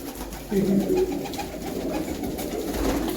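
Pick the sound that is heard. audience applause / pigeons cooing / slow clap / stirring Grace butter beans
pigeons cooing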